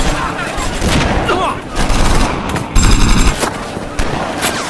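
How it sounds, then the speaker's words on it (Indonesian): Machine gun fire from a war film depicting German troops shooting at prisoners, with rapid bursts and booming shots crackling under someone narrator's voice throughout. "serbuan peluru Jerman meluncur dan menghujani para tawanan"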